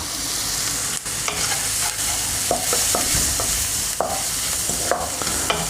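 Flour and onions frying in a pan, a loud continuous sizzle broken by repeated scraping strokes of a spoon stirring, close by with no voices.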